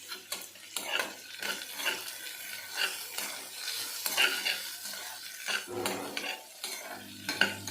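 Vermicelli with turmeric fries in a pan for shavige uppitu, a steady sizzle broken by repeated scraping and clinking as a utensil stirs against the metal, close and clear throughout.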